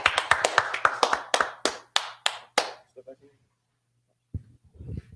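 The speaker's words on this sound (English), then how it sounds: "All right, let's clap it up." Congregation clapping at a Sabbath service, a run of about a dozen sharp, evenly spaced claps that stops abruptly, then a brief pause before a voice speaks.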